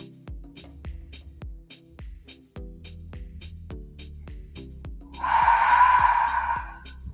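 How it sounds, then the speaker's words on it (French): A long audible exhale during a Pilates breathing exercise, a close breathy rush standing out over soft rhythmic background music. "Continue cette respiration."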